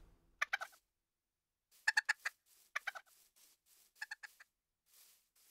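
Chickens in the video game Minecraft give short, clipped clucking calls in scattered clusters of two to four notes, separated by brief silences, with no other sound behind them.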